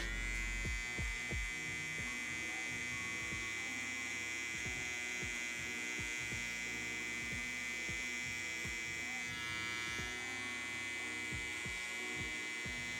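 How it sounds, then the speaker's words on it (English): Electric hair clipper buzzes steadily and close throughout a low taper fade haircut, a continuous motor hum broken by short bursts of cutting and contact sounds. "I'm gonna open the lever on the clipper and I'm gonna come up about a ½ inch from that line."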